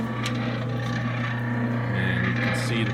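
A spindle sander runs steadily at close range, its motor giving a constant hum with a faint rubbing, rasping texture and no cutting work, holding level for the whole stretch.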